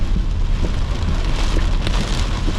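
Heavy rain hammers a car during a South East Queensland storm, a loud, dense, continuous roar of drops on the roof and body, with no voices.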